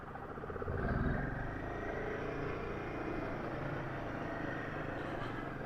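A Royal Enfield Himalayan 450 motorcycle rides off with a low, steady engine rumble that swells briefly near the start and then holds at a moderate, fairly faint level.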